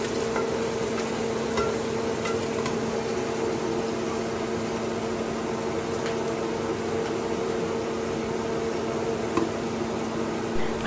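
Pork belly fries in a pan for pinakbet while being stirred, giving a steady broadband sizzle with faint scraping ticks, close and even throughout with no talking.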